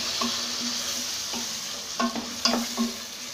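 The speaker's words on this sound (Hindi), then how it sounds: "अब हम इसमें कटे हुए टमाटर डाल देंगे इसे अच्छे से हिलाते हुए" Chopped tomatoes frying in a pan for dal bhaji, giving a soft, even sizzle broken by a few sharp spoon knocks and scrapes as they are stirred.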